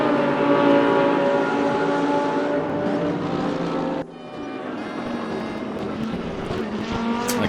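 Audi GT3 race car lapping Suzuka in a GT3 racing video game, its engine a loud, steady harmonic drone that drops abruptly partway through, then resumes with a rougher, busier tone.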